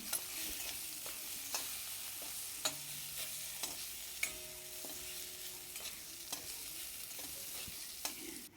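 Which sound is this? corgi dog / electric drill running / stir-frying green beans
stir-frying green beans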